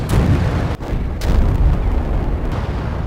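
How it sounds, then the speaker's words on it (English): Rocket launcher explosions wreck Lamborghini cars in the video game Resident Evil 5, a loud, continuous rumbling blast with heavy low boom and a couple of sharper cracks breaking through. "use the rocket launcher on a regular Lamborghini to watch them explode"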